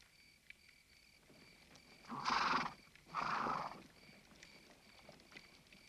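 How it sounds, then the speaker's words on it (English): Horses neighing in a 1950 film scene, two loud whinnies in quick succession rising out of a quiet night background, each about half a second long. "I can hear horses."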